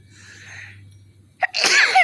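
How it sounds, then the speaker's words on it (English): A single sharp, loud sneeze from a person outdoors in a garden, bursting out abruptly after a quiet stretch and trailing into a breathy tail. "I'm gonna sneeze."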